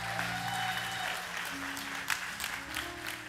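Steady applause from a church congregation in the middle of a sermon, dense clapping from a crowd held over low organ-like tones, with some voices faintly mixed in.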